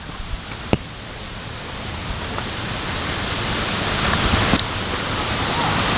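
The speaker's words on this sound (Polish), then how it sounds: "Posłuchajcie szumu tego strumyczka pięknego, którego Wam zaraz pokażę tutaj." A small babbling stream in Royal National Park near Sydney, Australia, rushing in a steady, close, broadband wash that swells slightly toward the end, with a few faint clicks and no talking.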